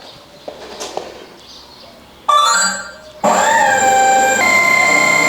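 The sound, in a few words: RC wingsuit model's engines firing up in wind tunnel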